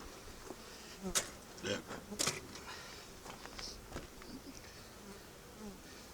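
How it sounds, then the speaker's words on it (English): Honey bees hum and buzz around a hive frame during a honey harvest outdoors, a steady close drone with individual bees zipping past now and then, fairly quiet overall. "Still a few bees on here."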